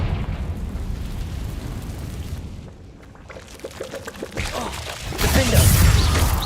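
A Confringo fire spell explosion in Hogwarts Legacy: rumbling, crackling combat noise dips briefly, then swells into a loud roaring blast with debris near the end.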